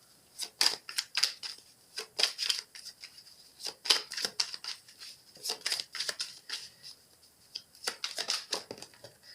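Tarot cards are shuffled and cut by hand in quick, soft flicking and riffling bursts, close and fairly quiet, coming in uneven clusters with short pauses between.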